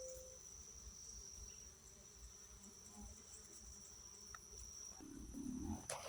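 Honey bees and other insects swarm a blooming tree outdoors, a steady faint buzzing hum that fills the whole stretch, with a few louder passes from bees flying close near the end.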